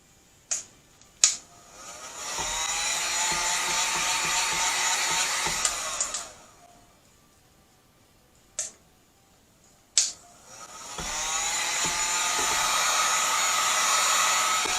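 Heat tool blowing hot air over a shipwreck-themed tumbler, a loud steady whoosh in two long bursts separated by a pause with a few clicks as it switches on and off.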